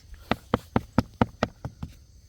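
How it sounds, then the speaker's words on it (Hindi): Eight firm knocks on a concrete stair at a village ghat, evenly spaced at a steady rhythm, close and distinct, the last few slightly softer. "ये है कंक्रीट की आवाज़।"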